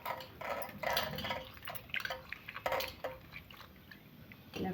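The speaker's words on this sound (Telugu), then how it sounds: "మళ్ళీ మంచినీళ్ళతో ఇలా కడుక్కోవాలి." Sliced bitter gourd pieces are rinsed by hand in a bowl of water. Quiet splashes, drips and wet squishing come in short, irregular bursts at close range, with no voices.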